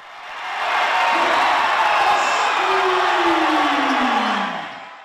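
A crowd at a boys' high school basketball game erupts in loud cheering and whooping after a slam dunk, swelling quickly, holding steady for several seconds, then fading.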